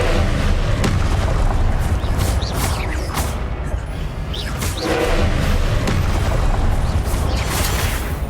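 Booming blasts from the Confringo spell in Hogwarts Legacy, heavy and loud over a constant rumbling battle bed, with several thumping bursts and creaks across the stretch.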